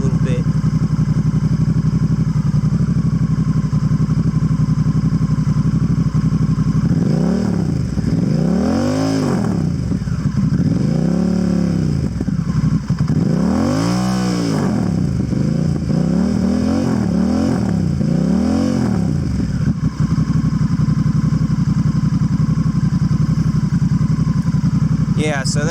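A Honda Rebel 1100 with an aftermarket exhaust idles with a steady rumble, then revs up several times in rising and falling swells. It sounds close and loud, with only a few words spoken.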